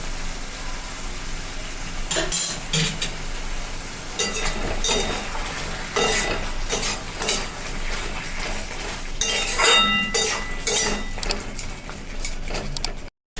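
Tomato chutney with turmeric and vinegar is stirred in a pan. A spoon repeatedly scrapes and clinks against the metal in close, irregular strokes over a faint bubbling, and no voices are heard.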